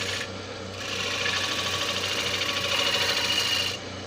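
A lathe tool takes a light finish cut on a spinning Spanish chestnut wooden bowl, giving a steady, loud scraping hiss that holds for a few seconds before easing off.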